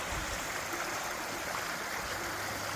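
The stream at Morialta Falls near Adelaide, South Australia, rushes steadily with a broad, even hiss of flowing water, fairly faint and unbroken with no voices.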